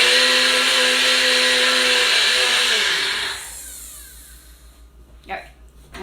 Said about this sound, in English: I'm going to go over to my blender and it's going to be really loud